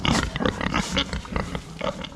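A group of curious farm pigs grunting close by: a dense, loud run of rough grunts and snorts overlapping one after another for the whole stretch, with no talk.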